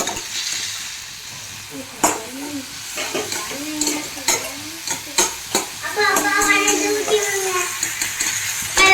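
Tomato sautés in a pan toward golden brown with a steady close sizzle, punctuated by repeated utensil clicks and scrapes against the pan, while faint voices murmur in the background.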